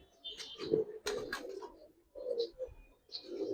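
Giribaz pigeons coo close by in a series of soft, throaty calls with short pauses between them. No one talks.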